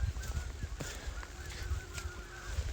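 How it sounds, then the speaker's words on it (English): A big flock of geese honking in the open air, a steady chorus of distant calls overlapping continuously against low wind rumble. "big flock of geese heading this way. Oh, I think they're just veering off. Honking."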